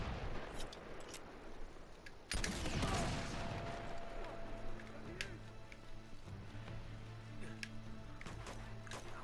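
Gunfire in the video game Uncharted 2: Among Thieves, a heavy burst of shots and impacts near the middle of the clip, with sharp isolated pops and faint background music tones throughout.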